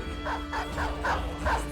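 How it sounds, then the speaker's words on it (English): A war dog in the video game Battle Brothers gives a quick series of about five yappy barks at a steady rhythm, moderately loud over a constant low game hum. "you're gonna move 3 and unleash a pupper. Duke the War Dog"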